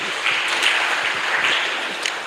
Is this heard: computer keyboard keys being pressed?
no